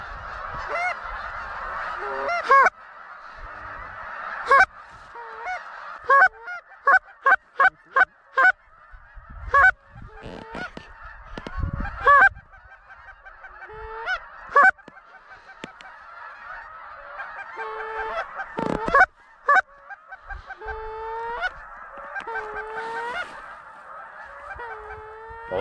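A large late-season flock of Canada geese honks throughout, many overlapping calls near and far, with sharp close honks rising above a constant background chorus in an open hunting field.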